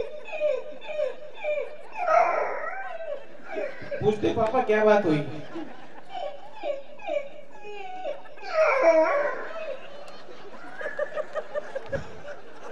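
A comedian at a Hindi hasya kavi sammelan imitates yelping puppies with his voice, several bursts of high whimpering yelps between stretches of speech, with audience laughter.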